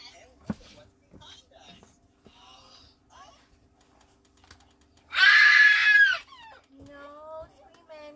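A young child lets out a loud, high scream lasting about a second, sharp against an otherwise quiet indoor scene with scattered light clicks and soft speech around it.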